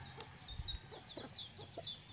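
An Asil breed rooster among hens and chicks gives a few soft clucks and short calls at moderate distance, with faint chirps and a steady background hum.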